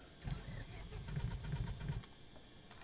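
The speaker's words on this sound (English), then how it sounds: "So let's see if we can get this thing to start for us." An aircraft engine in the Microsoft Flight Simulator 2020 video game cranks and sputters for about two seconds with a low, rhythmic chugging, fairly faint, then cuts off into quiet.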